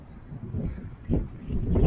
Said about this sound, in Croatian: Ovaj vjetar je strašan.